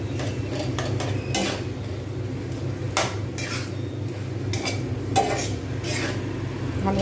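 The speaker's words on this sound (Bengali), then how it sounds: "ভালোভাবে নাড়িয়ে দেবো।" Bottle gourd and potato curry being stirred in a pan with a spoon, giving soft intermittent scraping and clinking over a steady low cooking hum, close and fairly quiet, with no talking.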